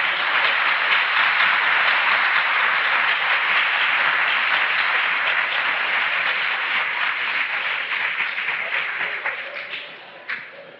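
A large audience claps steadily in a broad, dense wash of applause that stays loud for several seconds, then thins and tapers off near the end.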